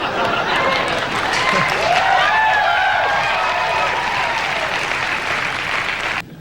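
Studio audience at a late-night comedy news segment reacting with a sustained wash of mixed applause and jeering, steady and loud throughout, cutting off abruptly near the end.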